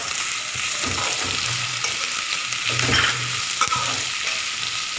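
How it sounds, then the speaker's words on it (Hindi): Onions fry over low heat in a pan for puffed-rice poha, a continuous close sizzle with occasional gentle stirring scrapes throughout. "अब इसमें हम प्याज डालेंगे धीमी धीमी आंच से।"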